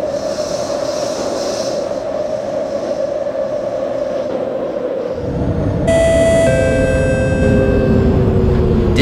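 A C751B electric train in the openBVE simulator hums along the Harbouvale Line, then a louder rumble builds and a chime-like tonal signal sounds over the running train in the latter half.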